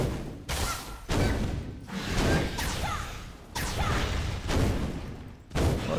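Fire attacks in the Blade & Soul video game, a series of loud whooshing bursts and impacts in quick, uneven succession, dense and close.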